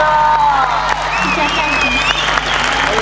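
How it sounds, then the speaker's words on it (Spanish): An audience at a live festival show applauds singer Luana with steady clapping, whoops and whistles, while a voice talks over the crowd. "Fuerte el aplauso para Luana"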